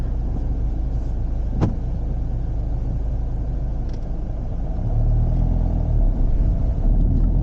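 A car engine runs steadily during a driving lesson on starting without stalling, a loud continuous low rumble that deepens and swells slightly toward the end, with a brief click partway through.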